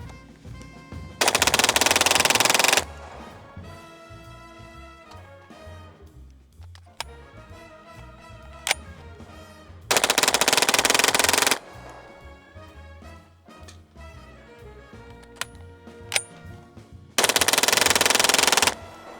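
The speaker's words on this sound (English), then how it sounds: "So, got 3 mags loaded up. We're gonna run through them as fast as we can." A Kriss Vector with a forced reset trigger fired rapidly outdoors in three separate sustained bursts of loud, near, machine-gun-like gunfire, one burst per magazine, with quieter background music between them.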